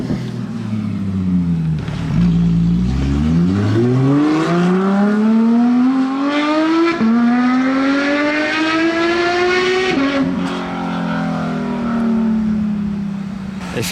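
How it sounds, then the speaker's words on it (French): A modified Porsche GT3 sports car revs hard and loud, its engine note climbing steeply in pitch through several sweeps, dipping briefly, then rising again into a sharp, piercing wail, close by with little else heard. "Le bruit est tellement aigu, il donne des frissons cette GT3"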